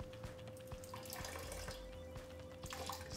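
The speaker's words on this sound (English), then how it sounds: "Squeeze as much liquid out as we can on this." Hot woad leaf liquid being squeezed through a strainer: continuous trickling and splashing into a container with a few small knocks, fairly faint against a steady background hum.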